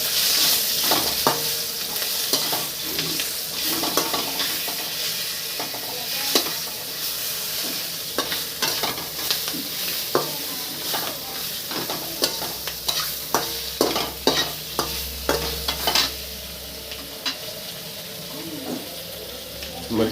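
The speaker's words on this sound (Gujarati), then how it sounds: "હવે એને આગળ હલાવી નાખીએ એટલે મરચાં થઈ જાય મસ્તીના" Chillies frying in a pan while being stirred, a continuous sizzle broken by repeated scraping strokes of the spoon at an irregular rhythm, close and fairly loud.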